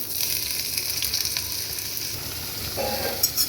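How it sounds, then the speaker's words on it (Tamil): Lengthwise-chopped snake gourd fries in a little oil in a kadai, giving a continuous close sizzle with faint clinks of stirring and no voices. "இதை நல்லா ஃப்ரை பண்ணி விட்டுக்கலாம்"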